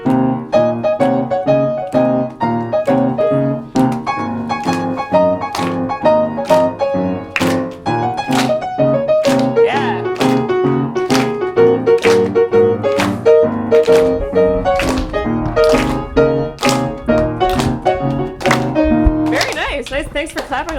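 Solo piano improvised on the black keys in a pentatonic scale, a steady flowing melody over repeated bass notes with clear percussive attacks, loud and close, running continuously throughout.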